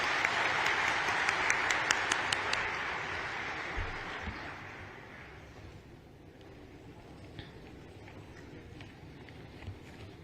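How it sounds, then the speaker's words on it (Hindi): A large crowd at a chief minister's address opening an Ashok Leyland electric vehicle plant applauds loudly in a dense roar that gradually fades to lighter scattered claps, dwindling into room noise. "जोरदार तालियों से स्वागत।"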